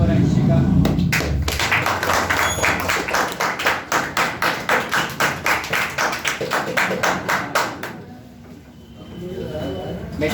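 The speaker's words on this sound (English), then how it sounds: "Well done, clap for Akshika." An audience claps steadily for a speaker at a public speaking session, with many rhythmic hand claps close by that fade toward the end. A voice briefly talks over them.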